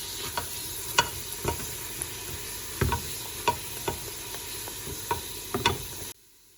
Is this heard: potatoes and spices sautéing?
yes